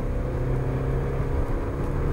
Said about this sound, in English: you do have to work this gearbox quite hard to get any performance out of this 1 litre 16-valve engine